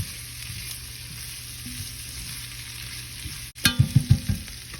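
Minced garlic cloves hiss quietly in a pan, then a burst of louder sizzling with several quick scraping stirs near the end, close up with no voices.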